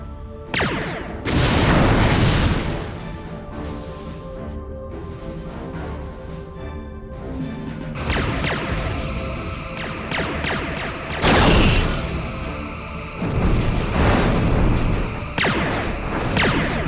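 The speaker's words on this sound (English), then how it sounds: "Loading dummy Mark IV torpedo casings." Torpedoes fire and burst in Star Trek: Bridge Commander, heavy booming blasts hitting at intervals over a continuous ringing, music-like game backdrop, several loud surges each followed by a lingering roar.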